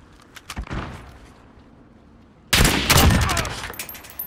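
Rapid automatic gunfire in Call of Duty: Modern Warfare, a few scattered shots followed by a brief lull, then a loud sustained burst of close bursts and impacts.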